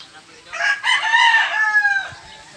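A rooster on a game farm lets out one clear, close crow of about a second and a half, the only loud sound.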